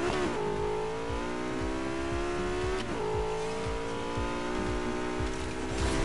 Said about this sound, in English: you can actually customize the exhaust sound of your car